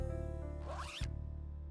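A zip tie pulled tight in the video game Necrobarista: one quick ratcheting zip, just under a second long, over a steady backing of sustained musical tones.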